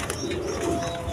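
A pair of Bombai pigeons kept together in a cage coo softly, giving a brief, low, rolling call heard up close.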